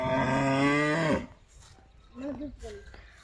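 A buffalo lets out a long, loud, deep moo close by at a rural home, followed by softer short calls after a pause.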